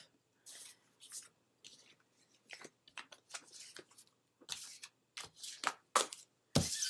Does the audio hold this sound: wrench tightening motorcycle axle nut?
no